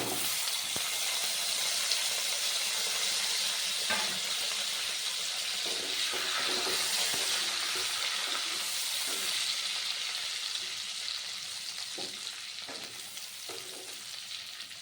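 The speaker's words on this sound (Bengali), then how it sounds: "এবার আমি আগে থেকে সেদ্ধ করে রাখা আলুগুলো একে একে কিন্তু দিয়ে দিচ্ছি ভেজে" Boiled new potatoes frying in a pan of hot oil for Bengali-style aloo dum, a steady close sizzle with occasional stirring scrapes and clinks, fading slightly toward the end, no talk.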